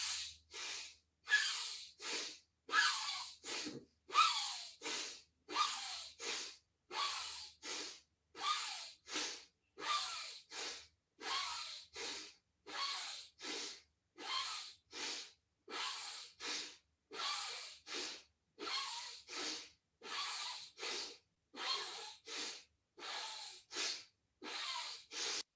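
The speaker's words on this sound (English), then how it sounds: "This is aggressive breathing." Forceful rhythmic breathing exercise, a steady run of sharp, loud breaths, roughly one per second for about 25 seconds, close and alone with no talk.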